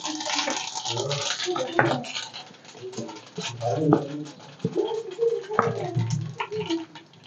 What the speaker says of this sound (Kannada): ಇವಾಗ ಸ್ವಲ್ಪ ಸಾಸಿವೆ ಹಾಕ್ತಾಯಿದ್ದೀನಿ, ಸ್ವಲ್ಪ ಜೀರಿಗೆ ಹಾಕ್ತಾಯಿದ್ದೀನಿ.